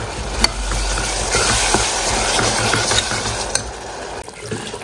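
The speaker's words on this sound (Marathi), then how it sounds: "3-4 मिनिटं परतून घ्यायची आहे आपल्याला प्युरी।" Tomato puree sautéing and being stirred in a pan, a steady soft sizzle with scraping stir strokes and a few sharp clinks of a spoon against the metal, close and continuous with no talking.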